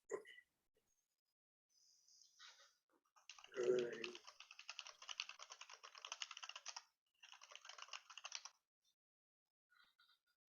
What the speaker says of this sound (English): Your typing is so fast.